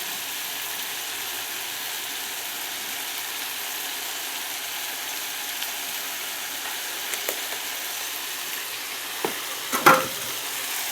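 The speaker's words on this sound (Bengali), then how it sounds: "এটাকে ভালো করে মিক্স করে দেবো, নেড়ে দেবো ভালো করে" Tomatoes with added salt fry in a pan while being stirred, giving a steady, even sizzle with a few soft scrapes and knocks near the end, no talking.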